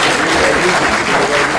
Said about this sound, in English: Yeah, give him another round of applause.